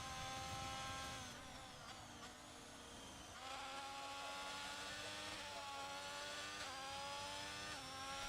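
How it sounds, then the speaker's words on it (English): A racing car in an F1-style video game strains out of a turn at Saudi Arabia, its engine whining and rising in pitch through gear changes, a steady high-revving drone that dips and climbs again, with no voices. "Just hear that engine struggle, that gearbox struggle on the exit of that turn"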